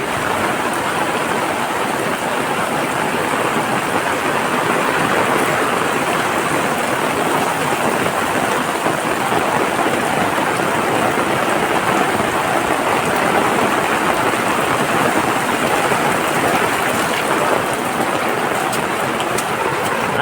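Heavy rain pours down in a steady, dense roar that stays loud and unbroken throughout, with no clear separate thunderclap standing out.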